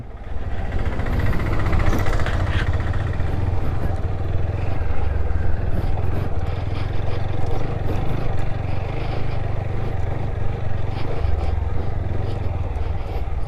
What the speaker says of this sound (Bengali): সামনে থেকে আসা এই গাড়িগুলোকে দেখে আশা করি বুঝতে পারবে যে কতটা কষ্টে এরা যাচ্ছে